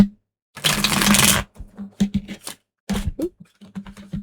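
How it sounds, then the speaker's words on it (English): A deck of tarot cards gets a close, brisk shuffle: one long rustling riffle, then a run of lighter taps and flicks as the cards settle, with no voices. "Just get a good shuffle on these."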